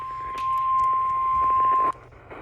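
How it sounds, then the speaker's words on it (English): A weather radio alert tone during a high wind warning for an Ohio windstorm, a loud steady beep held for about a second and a half and then cut off, with broadcast sound under it. "Long tones."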